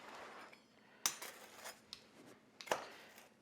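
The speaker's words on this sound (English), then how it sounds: "Let's go ahead and cut it." A pepperoni pizza is cut with a few sharp scraping strokes and light clinks of the blade against the pan, quiet and close, spaced over a few seconds.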